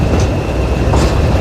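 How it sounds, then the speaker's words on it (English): Steam train on the Epping & Ongar Railway, heard as a loud, close, continuous rumble and rolling rattle of carriages over the track, with no speech. "like that steam train right there."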